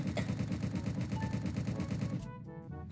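Rapid automatic gunfire in the Roblox video game, a dense rhythmic burst of shots running steadily for about two seconds before thinning into a few scattered cracks.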